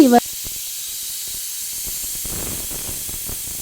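A short, shrill pressure cooker whistle at the start, then a steady, even hiss of escaping steam that carries on for several seconds while cooking rice.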